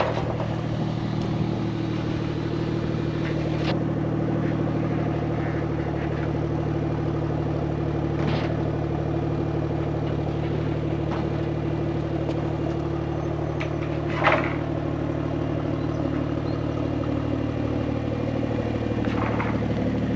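A Toyota A90 Supra's engine idles steadily outdoors in the cold, a constant mid-pitched hum with a faint clatter and one brief sharp knock partway through, no one speaking.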